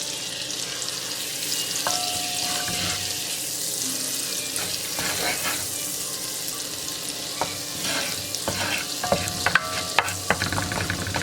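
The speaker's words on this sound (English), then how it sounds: "I've got a tablespoon of olive oil and 1 tablespoon of butter. I'm going to get that melted." A tablespoon of olive oil and a tablespoon of butter melt together in a pan for chicken paprikash, making a steady soft sizzle broken by scattered crackles and occasional clinks.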